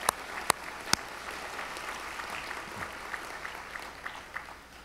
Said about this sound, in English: I just have to applaud what you're doing